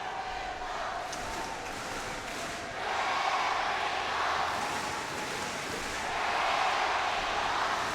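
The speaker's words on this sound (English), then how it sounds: "Just listen to the atmosphere being generated by the crowd. The Korean fans in full voice, but so are the Indonesians." Korean and Indonesian fans cheering at the 2014 Asian Games men's doubles badminton final, a broad, distant crowd roar that swells in waves with chants rising over it, filling the arena without individual voices standing out.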